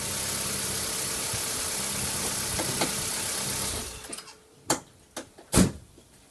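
A running Holden Barina (SB Corsa) engine hums steadily, then cuts off and goes quiet, followed by a few sharp clicks and knocks.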